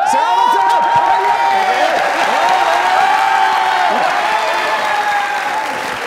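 A studio audience on a Pakistani comedy talk show claps and cheers loudly and continuously, with a few whoops rising above the applause and musical tones running underneath throughout.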